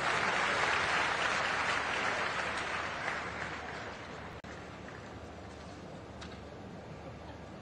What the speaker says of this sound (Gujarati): ગુજરાતના મુખ્યમંત્રી શ્રી ભૂપેન્દ્રભાઈ પટેલ સાહેબને તાળીઓના ગડગડાટથી આપણે એમને વધાવીએ